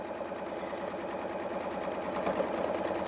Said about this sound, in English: I'm going to start sewing where I've got my pin, and I'm going to sew to within a quarter of an inch of my corner.